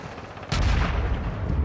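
Dense gunfire breaks out in the video game Warzone 2, opening with a loud, sudden burst and running on as continuous rattling shots up close, with no talking.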